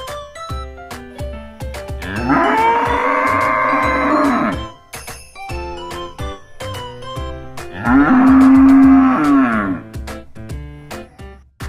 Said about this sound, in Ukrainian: Корова мукає.